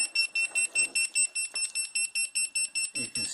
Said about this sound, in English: you can silence the alarm, but it will keep alarming with that E-stop